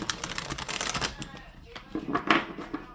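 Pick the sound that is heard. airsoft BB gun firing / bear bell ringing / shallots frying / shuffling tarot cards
shuffling tarot cards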